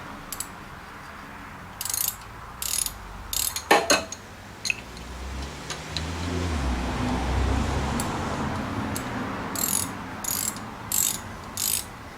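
Short bursts of ratcheting clicks from a spanner working on the brakes of a Honda Civic MK8, a few scattered clicks, then a low rumbling stretch before more quick ratchet bursts near the end.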